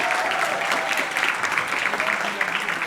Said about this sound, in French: On les applaudit, oui, s'il vous plaît.